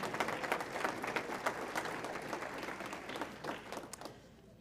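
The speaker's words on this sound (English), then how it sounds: "So how about a nice round of applause for Dolly?" An audience at a town address applauds the town's therapy dog, a fairly quiet, steady patter of many hands that thins out and fades toward the end.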